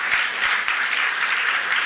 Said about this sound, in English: to give her a round of applause